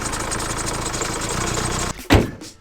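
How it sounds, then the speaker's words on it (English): An Audi Q5 SUV runs steadily at idle, and its auxiliary belt squeaks. The engine holds an even, close hum, then cuts off abruptly near the end. A short louder burst of noise follows. "Whilst the engine runs fine and is completely solid, it's got a really squeaky auxiliary belt."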